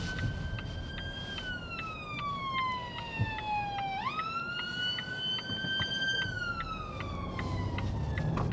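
An ambulance siren wails in a clear harmonic tone, gliding down then rising again as the vehicle passes on a road, loud over steady traffic rumble.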